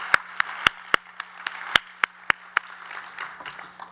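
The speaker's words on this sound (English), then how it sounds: "let's give Bridget a round of applause" Applause at the Aiming High Awards ceremony for a former award recipient, heard as a sparse run of separate, sharp handclaps with a steady low hum beneath, thinning out toward the end.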